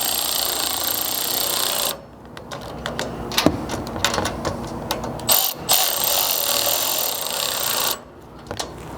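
A ratchet clicks in quick bursts tightening strike slider bolts on a third-generation Toyota Tundra, close and crisp, with brief pauses between runs of clicking.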